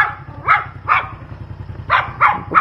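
Several dogs bark in short, sharp bursts, two spaced barks followed by a quicker cluster of three, fairly close, over a steady low engine-like hum.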